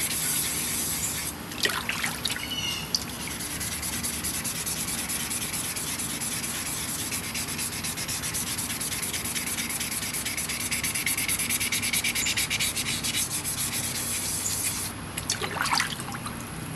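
Sandpaper rubs steadily over an aluminum Magnalite pot, stripping its old finish in a loud, continuous, gritty scraping that shifts slightly in strokes, with a couple of brief sharper scuffs near the start and end.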